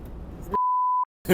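A single pure electronic lane departure warning beep from a Scania G410 truck, steady and loud for about half a second, cuts in after a voice, followed by silence and a brief noise.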